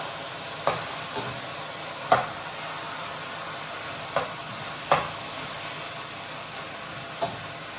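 Chicken feet frying in a pot and stirred with a big spoon: a steady close sizzle with several sharp scraping clacks of the spoon at irregular intervals, no voices.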